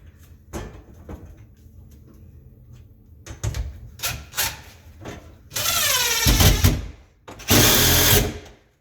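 Cordless drill driving a screw into Rubbermaid closet shelving: short whirring bursts with clicks and handling knocks, then two longer loud runs of the motor near the end.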